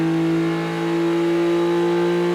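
A small car's engine with individual throttle bodies (ITBs) revs hard at high RPM in a fourth-gear pull, a steady, loud, close droning roar with strong sustained tones.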